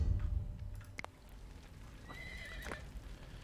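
Horse neighing in the video game Dawn of Man, a single drawn-out whinny near the end of the clip over low background rumble and a few soft hoof clops, with no talking.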